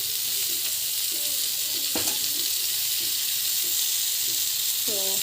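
Food fries in oil in a kadai, giving a loud, steady sizzle and hiss throughout, with faint clinks and brief stirring sounds over the top.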